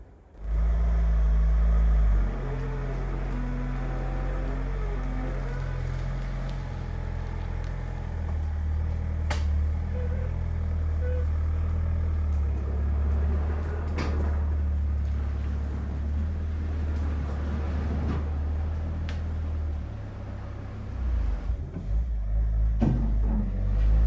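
Ford Mondeo barn-find car engine idling after being started outdoors, a continuous low rumbling drone with a brief revving surge near the start and some wind and clatter over about twenty seconds.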